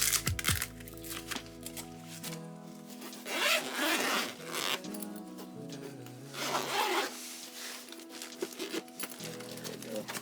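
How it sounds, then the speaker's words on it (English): A zipper on the padded carrying case of a Neewer MS60B studio light is pulled in several long, raspy runs, close up, with brief pauses and handling rustles between strokes. "Basic zipper"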